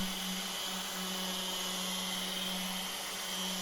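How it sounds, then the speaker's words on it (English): A spindle sander with 240-grit paper works wooden guitar sides, giving off a steady motor whine with a low hum and a constant high hiss of sanding, unbroken for the whole stretch. "240 grit on the guitar sides using the spindle sander"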